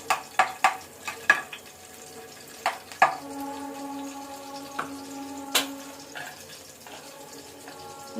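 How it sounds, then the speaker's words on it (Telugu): Garlic dropped into hot oil for a pork gongura curry, a steady close sizzle broken by several sharp clicks and taps of a utensil against the pan near the start. "ఎల్లుల్లిపాయలు వేస్తానండి. ఇందులోని నూనె అయితే కాగిపోయింది"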